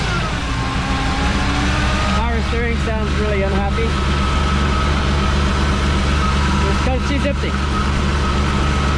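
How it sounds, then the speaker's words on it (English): A Chevrolet S10 truck runs at idle with its power steering noisy and unhappy, a steady whine riding over a low, constant engine drone, while a voice talks briefly twice. "Power steering sounds really unhappy."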